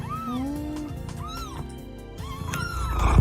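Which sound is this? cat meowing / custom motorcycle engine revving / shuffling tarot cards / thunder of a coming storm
cat meowing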